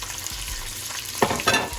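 Vegetables drop into a hot pot of seared beef for a stew, landing with a soft crash and a rise in sizzling, followed by brief scraping stirs over a steady frying hiss.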